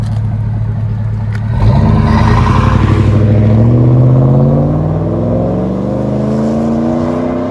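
A 2008 GMC Yukon's 5.3L V8 with a Flowmaster Super 10 muffler revs up, its deep exhaust rumble rising in pitch and holding loud and close, with a steady idle before the rev.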